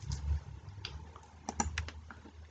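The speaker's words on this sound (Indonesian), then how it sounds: "ini diketik ya" Keystrokes on a computer keyboard while entering family data into an online form, a quiet scatter of soft clicks with a brief burst of several quick taps in the middle, no talk.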